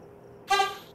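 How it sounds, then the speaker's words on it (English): Brief car horn honk at a roadside market stall, a single short bright blast of about half a second, fairly close and loud, standing out from quiet background. "Hey dude, can you stop with the honking?"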